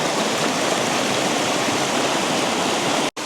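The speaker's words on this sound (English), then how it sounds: "I'm still not liking where that water is really flowing over there." Water at Cathy's Creek in North Carolina pours over rocks in a loud, unbroken rush heard up close, cut off by a brief dropout just before the end.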